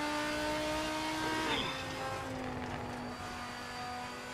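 Race car in Assetto Corsa lapping the Nordschleife: a steady engine whine at high revs, a quick pitch drop as it shifts or brakes, then settling into a lower continuous drone.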